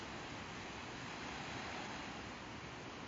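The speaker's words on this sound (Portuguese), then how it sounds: "o mar prateado" Gentle sea surf at night along a calm coastal shore, heard as a steady, soft wash of waves with a faint breezy hiss and no distinct breaks.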